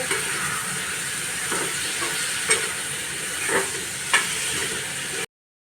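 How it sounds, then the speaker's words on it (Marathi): Tomatoes sautéing in hot oil in a pan make a continuous close sizzle, with a few brief scraping stirs at intervals before the sound cuts off abruptly. "व्यवस्थित सगळं तेलात परतवून घेते"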